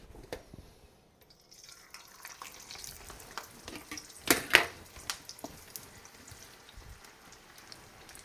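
A second batch of French fries for Canadian poutine frying in hot oil, a steady soft sizzle with scattered crackles and a couple of louder bubbling pops near the middle, no voices.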